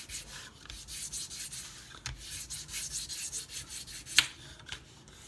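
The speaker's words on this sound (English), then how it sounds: "So I always make sure I sand all my light colored pieces first." Sandpaper rubs back and forth over a painted wooden sign piece, quick rhythmic scratchy strokes close by, with a brief sharper scrape partway through and no talking.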